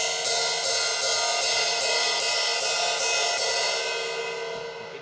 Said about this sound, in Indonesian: Tapi kalau di ujungnya akan sedikit lebih berisik.